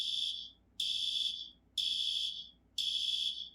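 An electronic distress alarm in a gunship cockpit beeps four times in a steady rhythm, each beep a sharp, piercing tone about half a second long, alone and moderately loud.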